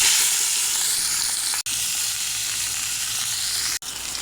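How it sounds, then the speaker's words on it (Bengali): Tengra fish coated in salt and turmeric sizzles in hot mustard oil, giving a loud, steady, close hiss that continues without pause and is broken only by two brief dropouts. "সর্ষে তেল তেল গরম হয়ে গেছে এখন লবণ হলুদ মাখা মাছ দিয়ে দেব"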